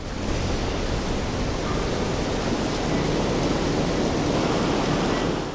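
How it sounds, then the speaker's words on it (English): Steady rushing water in the Call of Cthulhu video game, a broad continuous wash of flowing sound that stays even throughout with no voices over it. "I can hear water."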